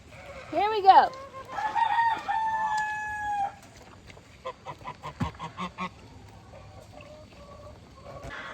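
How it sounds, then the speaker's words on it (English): A rooster in a chicken coop gives a loud, close crow with a rising and falling call, followed by a softer run of clucking and fowl calls. Background noise sits under the calls. "I'm in the chicken coop with a rooster that hates my guts."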